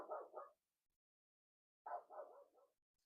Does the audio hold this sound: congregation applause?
no